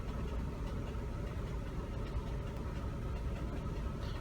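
Chevrolet Cavalier engine idling with the number 4 cylinder misfiring, a steady low rumble with an uneven, faintly stumbling pulse, heard close and alone.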